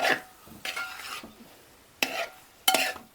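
Pork and jackfruit curry is stirred in a pot in a village kitchen: four separate scraping strokes of a spoon against the pot, each a short rough swish, with quiet gaps between them.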